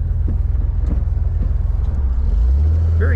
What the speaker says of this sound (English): Very good running little Corvair.